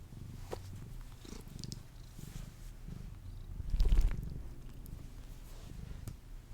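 A domestic cat purrs close by, a steady low rumbling drone that swells louder for a moment partway through, with no voices.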